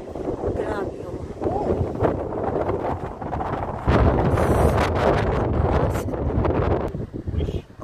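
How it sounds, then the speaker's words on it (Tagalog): Strong wind at a beach lighthouse in New South Wales, Australia buffets the microphone in heavy, uneven gusts, growing louder midway, with voices partly heard beneath the roar. "Lakas ng hangin."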